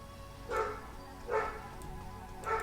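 Three evenly spaced dog barks from an in-game setting, fairly quiet and somewhat distant, over a low background hum with no talking.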